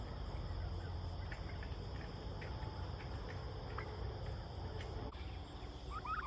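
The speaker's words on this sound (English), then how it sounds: "That's 2 of those 3 turkeys that follow me around like a dog, like pets." Pet turkeys on a homestead pasture give a few short gobbles, faint and scattered over a steady, loud chorus of crickets and insects.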